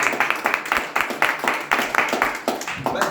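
A church congregation applauds after a testimony at a Sunday service, a rapid, fairly loud burst of many hands clapping that pulses in uneven waves for a few seconds.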